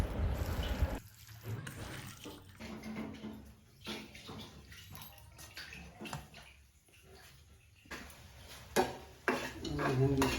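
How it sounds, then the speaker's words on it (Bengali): Marinated mutton is mixed by hand with spices and mustard oil, giving soft wet squelches and scattered clinks against a bowl that come and go in irregular bursts, fairly close and quiet. "আর এইভাবে কিন্তু ভালো করে সব উপকরণগুলো মাংসের সঙ্গে মাখিয়ে নিতে হবে।"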